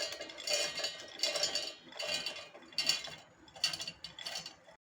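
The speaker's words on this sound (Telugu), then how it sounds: "గ్రైండ్ చేస్తున్నానండి." A mixer grinder whirs in repeated bursts as it grinds corn kernels with green chillies, garlic and cumin, pulsing on and off about six times, close and moderately loud with no talking.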